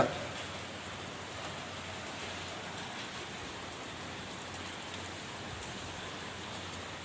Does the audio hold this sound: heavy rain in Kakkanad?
yes